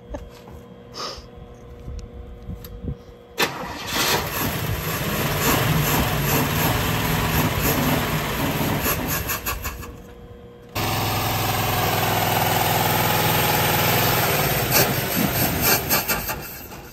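Engine of a 1973 Chevrolet Nova four-door, left parked for 32 years, running with a loud steady roar that drops off briefly and then surges back, rough and close with no talking.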